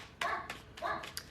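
Indoors, a dog barks at a screen door: two or three quick, fairly faint barks in a short burst.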